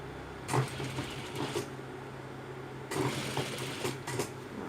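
Sewing machine stitching a folded binding strip onto a T-shirt neckline, heard as two short runs of close, moderately loud mechanical whirring separated by a pause, with no talking.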